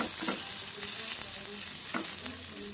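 Masala sautéing with a little water for rohu fish curry, a soft continuous sizzle with occasional spoon scrapes and taps against the pan, fairly quiet throughout.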